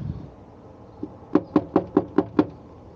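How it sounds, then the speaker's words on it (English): Six firm, evenly spaced knocks on a house's back door, heard close and clear after a faint tap, with no talking. "we'll just go to the back door and knock on that door"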